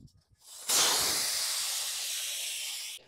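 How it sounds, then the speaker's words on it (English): Air rushes out of a flat tire in a steady, fairly loud hiss lasting a few seconds, beginning abruptly after faint handling noises and cutting off sharply. "I'll grab some vice grips, take the air out."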